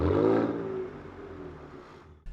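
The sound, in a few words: Ford Ranger Raptor wheels spinning in deep snow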